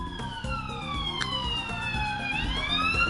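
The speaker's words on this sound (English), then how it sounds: "I hear multiple sirens." Several police car sirens in the Ace Attorney video game wail together, their overlapping rising and falling tones sweeping steadily over a low music bed for the whole stretch.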